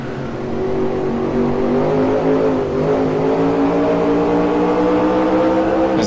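Stock car engines from the NASCAR Racing 2003 video game, in a 1969 USAC stock car race, roar in a loud, continuous drone that rises slightly in pitch as the car accelerates, with no talking.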